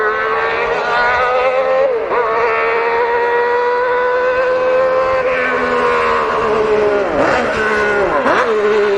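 A 1965 Honda RA272 Formula One car with a 1.5-litre V12 screams at high revs, its shrill sustained wail dipping briefly at gear changes before climbing again, loud and continuous throughout.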